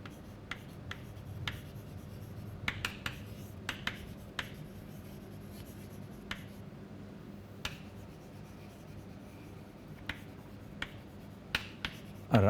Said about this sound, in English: I'll write this down.